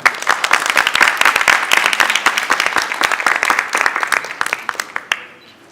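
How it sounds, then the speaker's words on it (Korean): An audience at a GTCx technology conference claps to welcome a speaker onto the stage: dense, steady applause from many hands that holds for several seconds, then thins and fades out near the end. "박수로 맞아주십시오"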